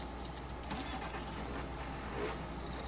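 A John Deere 7530 Premium tractor engine starts up in Farming Simulator 2013, a low steady rumble with a few brief clicks and mechanical sounds on top, alone and moderately loud.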